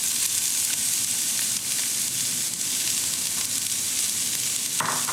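Chopped onions sizzling in a hot pan, a steady, fairly quiet crackling hiss that runs throughout with small pops and no voices.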